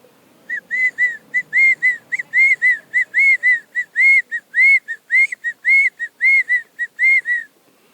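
A man whistles a close imitation of quail calls, a loud, clear series of short, sharp rising chirps repeated in quick rhythmic bursts, heard alone against faint background.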